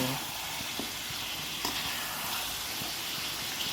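Curry sautéing in a pan makes a continuous close sizzling hiss with faint scrapes from stirring and no talking.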